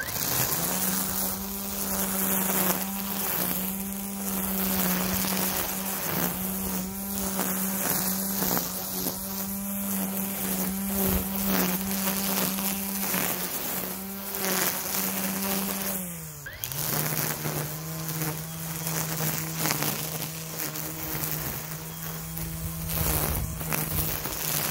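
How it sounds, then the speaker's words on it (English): A Greenworks 60V battery string trimmer cuts through tall grass, giving a loud, steady, high-pitched whine that holds without a break. Its pitch drops once partway through and then holds at the lower level. No one speaks. "Now I'm going to demonstrate trimming some tall grass right here and just doing normal weed eating."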